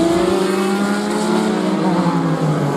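Vintage race cars at full speed on the Indianapolis Motor Speedway during the Brickyard Vintage Racing Invitational, a loud continuous engine drone with a sustained high whine, close and steady throughout.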